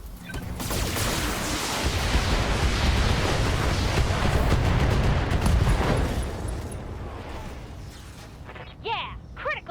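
Deep, sustained barrage of weapon fire and a heavy ammunition explosion from a damaged mech in the BattleTech video game, loud and dense for several seconds, then fading out to a few short synthetic tones.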